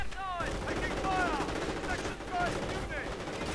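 Bursts of gunfire crackle through a World War II strategy video game battle, rapid overlapping shots and automatic fire in dense layers, while someone talks over the din.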